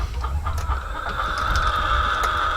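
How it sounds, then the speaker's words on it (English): Chickens clucking and crowing inside a goat and chicken livestock barn, a steady close chorus of calls running throughout with no talking. "see more chickens"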